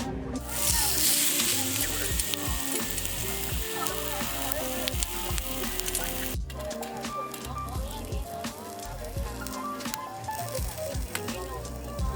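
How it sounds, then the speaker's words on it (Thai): Beef tendon with attached fat grilling outdoors on a mountainside, giving a loud, steady sizzle and crackle that runs throughout, with a brief break partway through. "จะย่างส่วนที่เป็นเอ็นเอ็นติดมันเนื้อวัวนะแล้วก็จะลวกจิ้มกับแจวขม"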